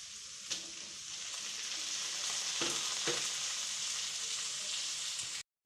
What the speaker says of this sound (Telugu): ఇప్పుడు ఆనియన్స్ ఫ్రై అయ్యాయి కదా, టమాటోస్ వేసుకుందాం.